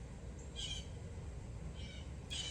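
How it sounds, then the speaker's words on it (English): A crow caws outdoors, two short harsh calls a couple of seconds apart, moderately distant and faint over a steady low background hum. "You hear the crow?"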